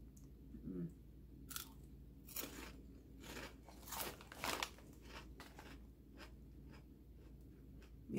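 Lay's Layers sour cream and onion chips being eaten; faint, sharp crunching bites repeat irregularly in a quiet room, close to the mic with no talking.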